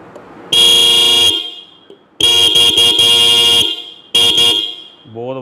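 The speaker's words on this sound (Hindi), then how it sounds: "बहुत वधिया गूंजदी आवाज हॉर्न दी" Three loud, close motorcycle horn blasts: a long honk, a longer one with brief breaks, then a short toot, separated by quiet gaps.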